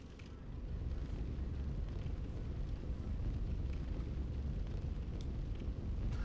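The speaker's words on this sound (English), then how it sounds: "Oh, that's just the fire in the other room." A fire burning in another room in Dark Souls 3, a low, muffled, continuous rumbling roar that stays steady and fairly faint throughout, with no talk.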